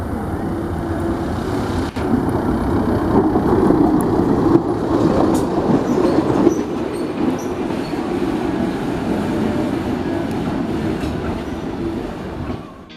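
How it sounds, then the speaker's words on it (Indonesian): A rail inspection trolley pulling into Garut station, its steady rolling rumble and wheel noise rising and holding close by before trailing off at the end. "video hasil rekaman Kang Angga ketika lorinya merapat stasiun Garut"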